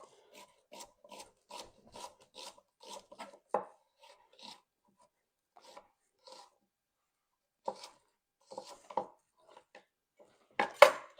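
A knife cuts an onion along its seams on a cutting board, with quick, close rhythmic bursts of slicing and tapping that alternate with short pauses and end with a sharper knock.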